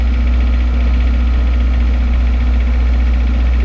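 An off-grid camp generator runs close by, about 6 to 8 feet from the exhaust, giving a loud, steady engine drone with a strong low hum and an even mechanical buzz that never varies.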